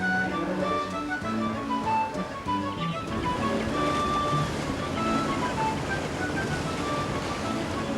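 Low engine rumble and rushing water churn steadily as a ferry manoeuvres into its berth at Liverpool landing stage, with some tonal hum early on and wind noise throughout.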